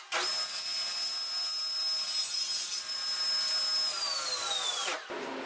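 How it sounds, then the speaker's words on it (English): A table saw cuts the lug off a pine baseboard blank, one loud steady whining cut of about five seconds whose pitch drops slightly as the blade finishes, then the motor runs on briefly. "set the space between the blade and the fence and the height of the blade to match this profile when I cut off the lug on this blank"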